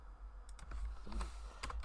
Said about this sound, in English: I'm not sure if you can hear me, Vic, so I'm typing in chat as well